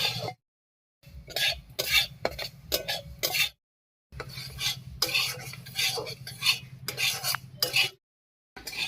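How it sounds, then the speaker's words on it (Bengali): Scraping and stirring of sesame seeds roasting in a hot pan with a soft sizzle, in steady bursts broken by two short pauses, close up. "তিলটা ভাজার সময় এই নাড়ানোটা বন্ধ করা যাবে না"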